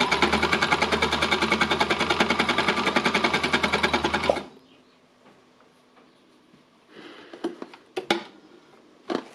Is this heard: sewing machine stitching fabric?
yes